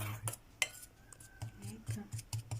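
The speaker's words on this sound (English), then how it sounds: "I tried to mix them well, all of them. Mix your spices well." A spoon stirs spices in a bowl, making a series of light, close clinks and scrapes in an uneven rhythm.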